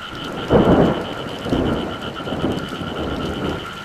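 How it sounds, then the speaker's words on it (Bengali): Heavy night rain pours steadily over a village while thunder rolls in broad, booming swells, one strong peak early and several softer rumbles following, with no voices. "প্রবল বৃষ্টির শব্দে চারপাশ ভিজে যাচ্ছে।"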